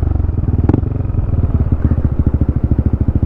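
A motorcycle engine labours up a steep road, its rapid, rhythmic exhaust pulses loud and close, with a brief clatter early on.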